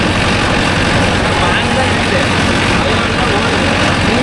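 A Mahindra Arjun Novo 605 DI tractor engine runs close by with a cleaned muffler, a loud, steady, heavy chugging that keeps on without pause.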